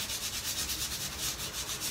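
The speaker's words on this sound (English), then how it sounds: "it's easy for the sandpaper to rub them away without rubbing the rest away" Sandpaper rubbing back and forth over lumpy textured paint makes a rhythmic, close, raspy scratching with even strokes of about four per second, with no voices.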